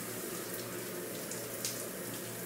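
Running water rinses shampoo out of hair, making a steady, close hiss with soft splashing that lasts throughout.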